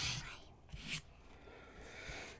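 A scraper dragged across a sticky Cricut cutting mat to lift adhesive, giving a couple of close, soft rasping strokes followed by quieter rubbing.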